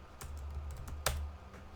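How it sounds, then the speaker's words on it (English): Quiet keystrokes on a computer keyboard, with a few soft clicks and one sharper tap, in a short burst of typing. "now I will type the band number 1."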